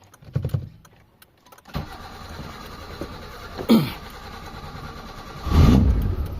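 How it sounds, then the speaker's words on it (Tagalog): A Mitsubishi Lancer engine cranks and catches, settling into a steady running rumble, with a sharp clunk midway and a brief rev near the end. "So start tayo ng engine mga bossing."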